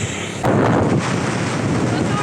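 Wind blows across an open rural setting, a constant rushing roar with heavy buffeting on the microphone that swells suddenly after a brief calmer start.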